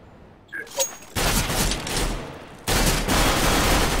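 Bursts of rapid gunfire in the video game CS:GO, two sustained loud volleys of automatic fire with a short pause between, preceded by a few faint clicks and small game sounds.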